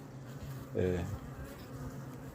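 Honey bees buzz at a hive during a queen introduction, with one nearby buzz that swells briefly over a low, steady hum.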